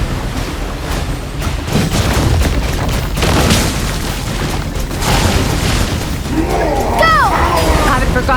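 Repeated booming bomb blasts in the video game Genshin Impact, dense and loud, merging into a continuous rumble with bursts, and a sweeping magical effect near the end.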